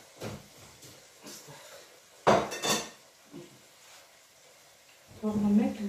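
Chicken pieces drop into a cooking pot of water while a chicken-wing stew is made, giving two loud clattering thumps a few seconds apart, with softer kitchen clinks around them.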